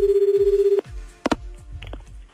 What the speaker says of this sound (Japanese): じゃあ、久々に滝沢にでも電話してみますか